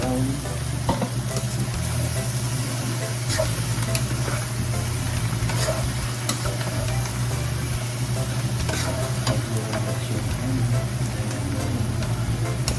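Duck meat for adobong itik fries in a pan with a steady, close sizzle that never lets up, over a low continuous hum in the background.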